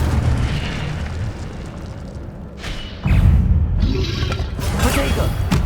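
Incendio fire spell cast in the Hogwarts Legacy video game on PC, a low rumbling burst with a sharp whooshing blast near the midpoint, followed by sustained crackling fiery roar and further impacts.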